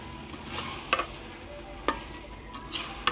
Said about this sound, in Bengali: ঘি দিয়ে ভালো করে ভেজে নিতে হবে।